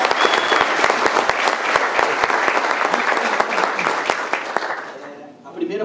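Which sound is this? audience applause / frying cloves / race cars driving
audience applause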